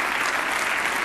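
Brief burst of dense audience applause following a keynote at an energy innovation summit, a steady wash of many hands clapping close and loud with no voices.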